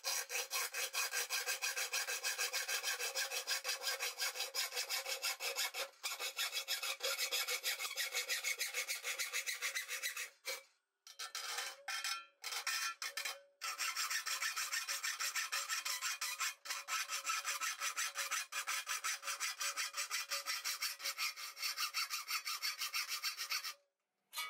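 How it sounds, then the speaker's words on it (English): A hacksaw cuts out a homemade GoPro mount for motorcycle vlogging with fast, steady rasping strokes. The sawing is close and continuous, broken by a few brief pauses. "Just have to use your hacksaw and cut around."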